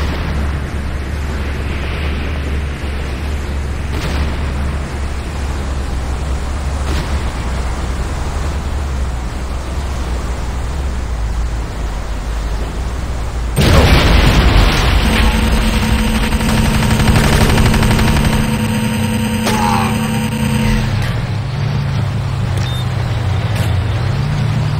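Gunfire and explosions hit a Nod Harvester in Renegade C&C: steady rumbling battle noise, then a loud burst of blasts with ringing tones and rapid shots.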